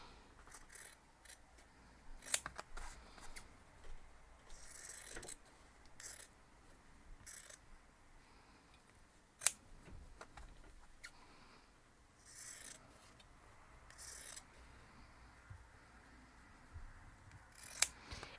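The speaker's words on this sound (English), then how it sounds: "I'm just going to take my scissors and cut them apart" Fabric quilt pieces are snipped apart with scissors, a series of quiet, sharp metallic snips and clicks spaced irregularly across a hushed room.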